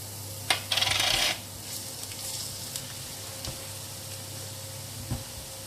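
Garlic and cooking oil sizzle in a pan for fried egg noodles, a short burst of loud frying near the start easing into a steady, quieter hiss with a few light clinks.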